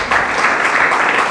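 Audience applause at a book signing for a novel in Thiès, a steady dense clapping that holds loud and even throughout with no talk over it.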